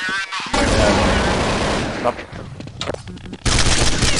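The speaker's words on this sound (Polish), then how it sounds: "Tutaj gdzieś były strzały chyba." Rapid gunfire from the video game Counter-Strike 1.6, with loud sustained bursts of shots filling most of the stretch, a short lull, then another loud volley at the end; speech can be heard faintly underneath.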